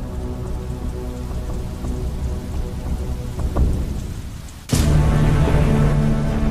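Heavy caustic acid rain pours down in a steady, dense hiss with low rumbling beneath, then abruptly surges louder and brighter partway through, like a downpour suddenly intensifying close by.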